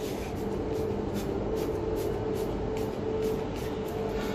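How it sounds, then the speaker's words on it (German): P21S wheel rim cleaner sprayed onto a grimy car rim during a winter car wash, a close, steady hiss with faint regular pulses running through it for several seconds. "Den P21S vorher gut durchschütteln und dann die Felge gut einsprühen."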